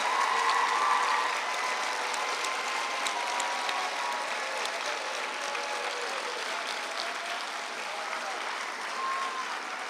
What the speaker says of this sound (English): let's do a huge round of applause